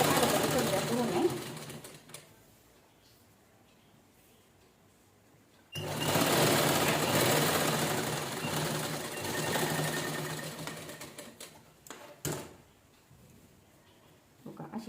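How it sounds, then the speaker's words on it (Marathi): Sewing machine stitching fabric for a cushion cover made from leftover blouse pieces, running in two steady whirring bursts with a quiet pause between and a short final burst. "थोडी नॉर्मल धरून शिलाई करून घेऊया"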